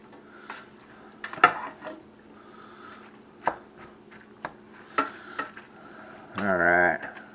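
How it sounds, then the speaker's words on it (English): Sausage chopped up in a pan with a utensil, giving a few sharp scraping knocks and clinks spaced out over a low hum, then a longer sizzling scrape near the end. "Kind of chop our sausage up a little better there."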